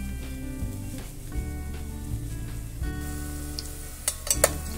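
Onions frying in a pan for Mumbai Chowpatty-style pav bhaji, a steady close sizzle with a low rumbling hum beneath and a few sharper clinks near the end; no talk.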